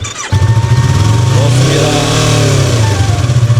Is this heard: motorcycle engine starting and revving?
yes